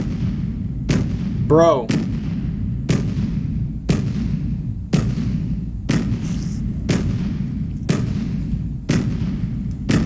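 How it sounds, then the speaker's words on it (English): Anti-aircraft cannons in a modded video game fire in a steady series of loud, evenly spaced booms, about one a second, over a constant low rumble, with a brief whistling tone early on and a short spoken word. "AA cannons."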